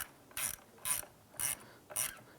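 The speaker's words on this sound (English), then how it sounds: "Use your 8mm socket to go ahead and snug this down." Ratchet with an 8mm socket tightening the ground terminal nut on a car battery of a 2005-2007 Ford Five Hundred, four short bursts of close ratcheting clicks at an even pace, alone.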